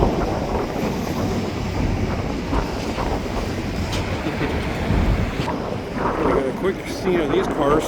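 A freight train with SW900 and GP9 locomotives rolls past near New Westminster, British Columbia, a steady rumble with rail clatter and occasional clanks. Voices talk over it.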